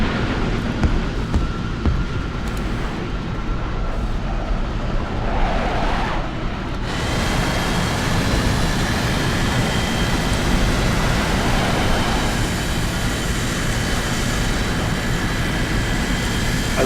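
A MiG-9 jet in a video game, its engine giving off a loud, constant roar and whine that fills the whole stretch. The tone shifts partway through, and no one is speaking.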